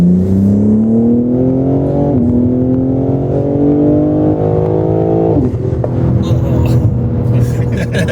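A tuned BMW M340i engine revs hard under full acceleration, a loud close-up rising drone that climbs in pitch, shifts, and climbs again before tapering, heard from inside the car.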